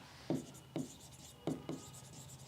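Marker or chalk writing on a board during a commerce lecture, four distinct quick scratchy strokes spaced unevenly over a quiet room, close and fairly faint.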